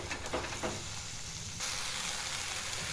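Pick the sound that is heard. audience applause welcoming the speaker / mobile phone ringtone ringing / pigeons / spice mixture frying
spice mixture frying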